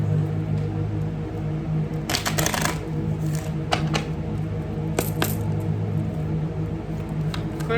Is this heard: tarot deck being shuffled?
yes